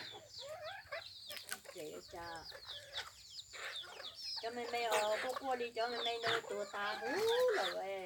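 Crossbred chickens from a fighting rooster and jungle fowl cluck nearby in dense, overlapping calls that grow louder and busier, while people talk in the background.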